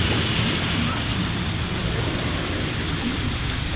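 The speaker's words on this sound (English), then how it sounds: "we're sitting inside and just watching the rain" Steady rain falling outside during a storm, a dense even hiss heard from indoors, with low rumbles of thunder beneath the downpour.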